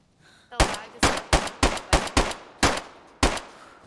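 Eight loud, sharp gunshots in a shooter video game, fired one after another at a fairly even pace with a short gap before the last shot, close and clear with little else heard.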